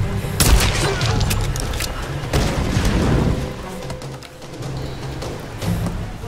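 In the Tomb Raider video game, TNT goes off as a heavy rumbling boom, mixed with rapid bursts of gunfire. The sound is loud and dense throughout, then eases slightly toward the end.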